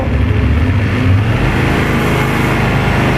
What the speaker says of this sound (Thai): นี่ฮะรอบเครื่องยนต์เดินเรียบครับ ผมไม่มีสะดุดเลย